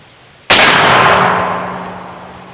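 A loud single shot from an 1851 Navy percussion revolver loaded with 60 grains of 3F Swiss black powder and a number 11 cap, a sharp blast followed by a long ringing decay that fades over about two seconds.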